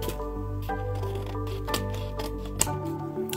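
Scissors snipping off the border of a collage: a series of quick, crisp cuts close by over a steady low background hum.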